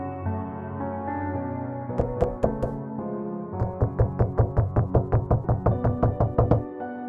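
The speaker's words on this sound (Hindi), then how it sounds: "बॉक्सर आके दरवाजे पे जोर जोर से नॉक करने लगता है।" Loud, urgent knocking on a house door in a Motu Patlu horror cartoon, first a quick burst of three hard raps, then a long steady run of about a dozen heavy knocks over a music bed.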